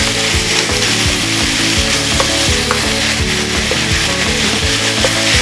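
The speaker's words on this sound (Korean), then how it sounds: "네, 볶아줍니다." Pork for jeyuk bokkeum stir-frying in a hot pan, loud continuous sizzling with quick rhythmic scraping strokes of a spatula, close and without talk.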